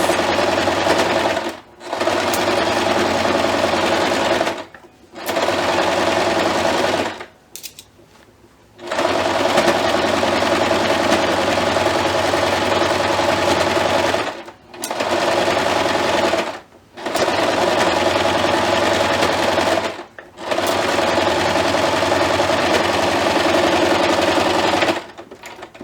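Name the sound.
sewing machine stitching ruffles into a Christmas tree skirt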